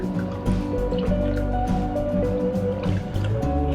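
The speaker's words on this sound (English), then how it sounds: "we're going to dip them into this solution" Copper Mizuno MP-20 golf club heads dipped into an anti-oxidation solution give steady close-up sloshing and dripping of liquid, with tonal hum from the workshop underneath.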